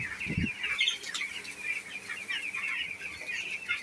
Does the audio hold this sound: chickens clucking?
yes